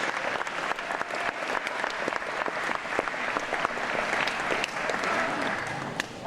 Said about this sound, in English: let's give another round of applause to our field hockey team and coach